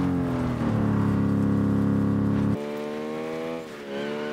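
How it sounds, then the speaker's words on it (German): Aston Martin engine in PUBG with a buzzy, moped-like tone, droning loud and steady, then dropping to a lower pitch and climbing again as the car accelerates. "Ich finde, Aston Martin hört sich so super lustig an. Wie so ein Moped."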